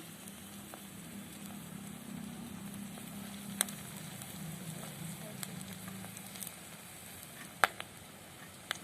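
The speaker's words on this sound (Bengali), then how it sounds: "পকোড়াগুলো ভেজে নিচ্ছি" Quiet, steady sizzle of pakoras frying in oil, with occasional small pops and clicks.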